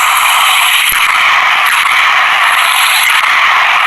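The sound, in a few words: Heckler & Koch MP5 submachine gun firing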